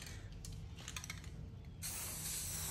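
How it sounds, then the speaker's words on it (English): Fabric spray paint hisses onto a shirt in one steady, close burst that starts partway through and runs to the end, following a quieter stretch of light handling noise. "this is fabric spray paint, so it is specifically designed to stay on your shirt design through many washes"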